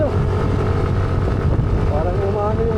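Motorcycle engine on a mountain road below steep slopes near Daraitan River, droning steadily and fairly close under heavy wind buffeting, with rising pitch sweeps near the end and a voice speaking over it.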